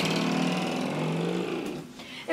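A motorcycle engine drones loudly and steadily nearby, its pitch sagging slightly as it eases off toward the end.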